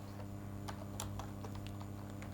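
Quick, light keystrokes on a computer keyboard, a short run of close clicks over a steady low electrical hum.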